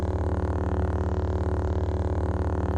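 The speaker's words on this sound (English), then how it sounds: "All of the lightsaber sounds in Star Wars are made by a television interference." Star Wars lightsaber hum created from old television aerial interference: a steady, low, buzzing drone with a fast regular pulse, loud and unbroken across the whole stretch.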